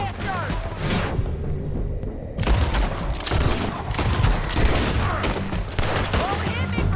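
Gunfire in the video game Red Dead Redemption 2: a dense crackle of rapid shots and booms, loud and near, with a brief lull before the shooting picks up again, while voices shout over the fight.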